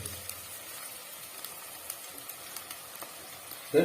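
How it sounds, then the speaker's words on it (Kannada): Onions fry steadily in a pan for gongura chicken, a close, even sizzle with faint periodic stirring clicks and a short louder clatter at the very end. "ನೋಡಿ ಈರುಳ್ಳಿ ಒಂಚೂರು ಫ್ರೈ ಆಗ್ಬೇಕು ಚೆನ್ನಾಗಿ"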